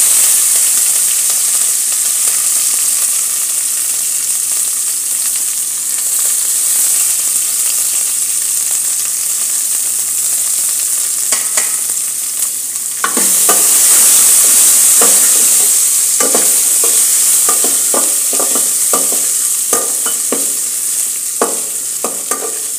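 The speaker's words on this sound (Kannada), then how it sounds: "ನಂತರ ಕರಿಬೇವು ಸೊಪ್ಪು, ನಂತರ ಹಸಿಮೆಣಸಿನಕಾಯಿ," Curry leaves and green chillies frying in a little oil, a steady close sizzle that flares up partway through, with scattered scrapes and clinks of stirring and no voices.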